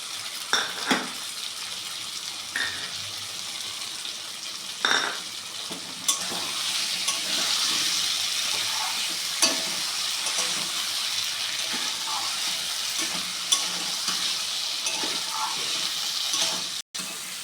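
Potato and pointed gourd curry with cashew paste sautéing in a pan: a steady close sizzle of frying, broken by scraping stirs and occasional light clinks of a utensil against the pan.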